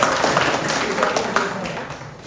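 Students and guests at a high school education seminar in Australia give a round of applause, a dense, steady patter of many hands filling the room, fairly loud throughout.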